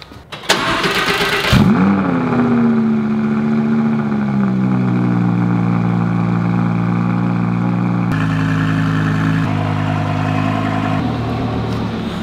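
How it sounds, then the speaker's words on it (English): A 2018 Audi R8 V10 Plus on its stock exhaust cold-starts: the starter churns briefly, then the engine catches with a loud flare and settles into a steady, high, droning idle that keeps going. "This is a cold start on a 2018 Audi R8 V10 Plus with stock exhaust."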